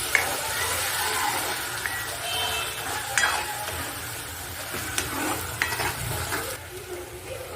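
Tomato paste sautéing in hot oil for egg curry, a continuous close sizzle with spoon scrapes and occasional clinks against the pan, no voices.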